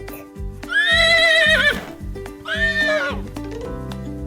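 A horse gives two long, loud whinnies, one after the other, set on a French farm in a children's animal lesson, with a steady rhythmic beat like trotting hooves underneath.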